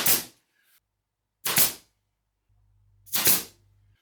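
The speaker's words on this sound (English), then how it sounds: "I'm firing in pins to keep the parts lined up" A pin nailer drives pins into glued wooden clamp parts, three sharp, evenly spaced pops about one and a half seconds apart, close and distinct against near silence.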